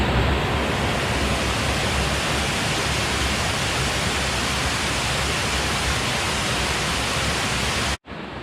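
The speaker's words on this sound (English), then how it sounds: "Leading right up to another waterfall." A waterfall on the Ricketts Glen Falls trail, heard as a loud, steady, broadband rush of falling water that continues unbroken for about eight seconds, with a brief dropout near the end.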